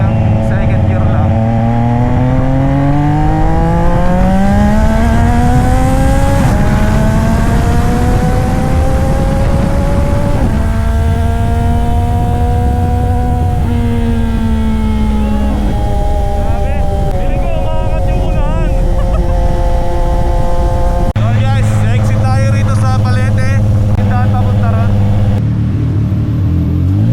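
675NK motorcycle accelerating hard up to second gear, engine note rising steeply then dropping at the shift before climbing again, loud and close with a rough rumbling exhaust throughout.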